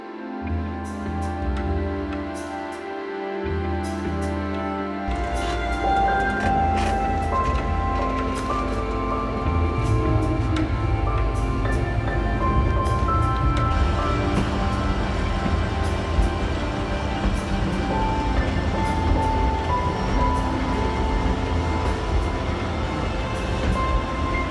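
The Jand Passenger train pulls out of Kanjoor railway station, a low rumble at first, then steady rolling clatter with rhythmic wheel clicks and metallic squeals building as it gathers pace, loud and close throughout.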